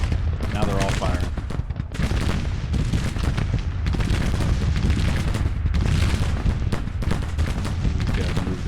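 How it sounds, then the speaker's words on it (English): Civil War 12-pounder cannons in Grand Tactician: Civil War firing in a sustained, overlapping barrage of booming shots mixed with rifle crackle across a battlefield. "Get these 12-pounders firing hot. There we go. Now they're all firing."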